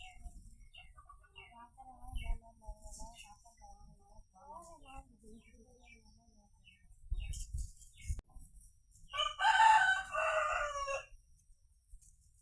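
A chicken squawks and clucks in agitated bursts while caught in a snake's mouth, then a loud flurry of cries and flapping near the end, with faint rustling between.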